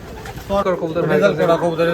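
Low, throaty cooing of Giribaz high-flyer racing pigeons rolls on continuously at close range while someone speaks alongside the birds.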